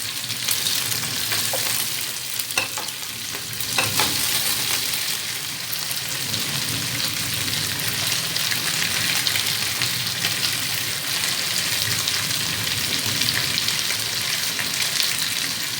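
Chicken pieces fry in a pan for butter chicken, a steady, dense sizzle and crackle with occasional small pops and stirring scrapes, close and continuous throughout with no talking.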